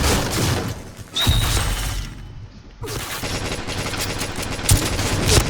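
Gunfire in the shooter game Point Blank, loud close bursts of automatic fire with a brief lull in the middle before rapid shots resume, punctuated by a couple of sharper impacts.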